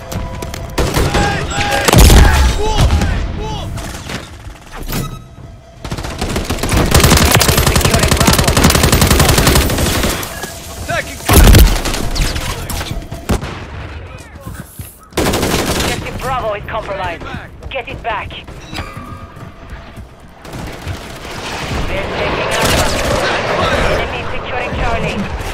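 Rapid automatic gunfire and bursts of shots in Modern Warfare 3 multiplayer, loud and sustained with a few heavy booms, under radio-style game voice callouts.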